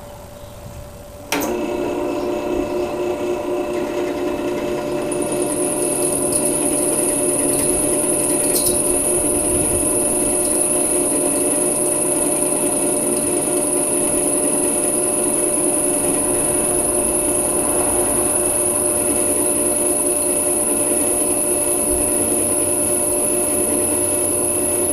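A power drill bores through wood while struggling to get through, giving a sudden start and then a steady, loud, continuous whine and grind with no talk.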